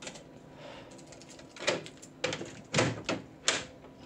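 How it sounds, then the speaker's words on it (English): A fruit machine's belly door clatters shut, followed by a few sharp metallic clunks and latch clicks, fairly close and distinct over a quiet room. "Close your belly door."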